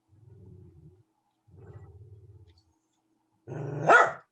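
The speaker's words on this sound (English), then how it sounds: "Excuse my dog's barking" A dog barks indoors in three short bursts separated by pauses, low growly woofs first and then a louder, higher yelping bark at the end, with no talk over it.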